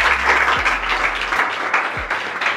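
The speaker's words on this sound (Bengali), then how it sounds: "জোরদার হাততালি একবার।" A room full of people at an academy gathering claps strongly, dense continuous applause filling the whole stretch with some faint low voices underneath.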